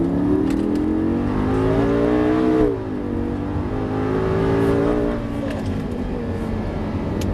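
A Lamborghini LP 560-2 rear-wheel-drive car accelerates hard on the Dreux circuit, its engine note climbing steadily in pitch, dipping briefly as it comes off the throttle, then surging again, loud and close throughout.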